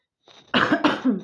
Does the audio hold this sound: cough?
yes